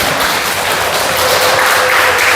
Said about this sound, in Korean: 이한비 박수 한번 할까요?